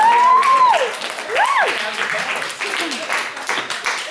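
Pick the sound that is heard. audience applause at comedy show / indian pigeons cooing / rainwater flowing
audience applause at comedy show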